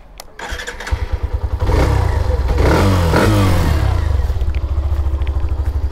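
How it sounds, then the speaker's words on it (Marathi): A Hero Xtreme 125 motorcycle engine cranks and catches after a brief starter whirr, then settles into a close, steady, rapidly pulsing idle with a short rise in revs partway through. "आता ह्या बाईकची तुम्हाला एक जस्ट नोट ऐकून दाखवतो"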